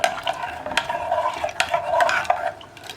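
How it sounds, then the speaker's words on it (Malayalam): Chickpea curry with garam masala is stirred in a pot for Kerala kadala curry, giving close wet scraping and clinking of a spoon against metal in irregular strokes, with faint sizzling underneath. "ഇത്രയും ചേർത്ത് നന്നായിട്ടൊന്ന് ഇളക്കിയിട്ട് നമുക്ക് അടച്ചു വെച്ച് കടല കുക്കാവുന്നത് വരെ വേവിച്ചെടുക്കാം."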